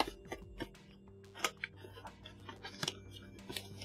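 A cardboard box holding a Shure MV7 microphone is opened up close, with scattered soft scrapes, taps and crinkles from the flaps and packing at low volume, and no voice.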